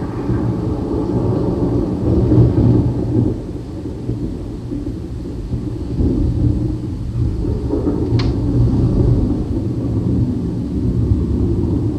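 Thunder from a great storm rolls as a loud, continuous low rumble that swells and ebbs, with one brief sharp crack midway.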